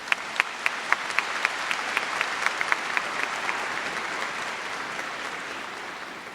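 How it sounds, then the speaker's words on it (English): A commencement crowd in a university arena gives a round of applause for the platform party, broad sustained clapping with a few sharp, close claps standing out at first, gradually easing off. "Round of applause for the platform party"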